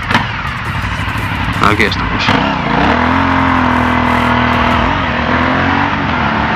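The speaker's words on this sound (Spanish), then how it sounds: "Petardea bastante cuando bajas marchas esta moto." An Aprilia Shiver 900 motorcycle engine revs and pops, with crackling bursts early and then a steady rising drone as it pulls away, close and loud; someone speaks briefly at the start.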